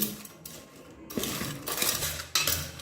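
Spoon or spatula scraping and clinking against a metal pot while a mixture is stirred, with irregular knocks and grinding scrapes in close succession, loud and near, no talking.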